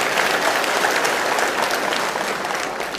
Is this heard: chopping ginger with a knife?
no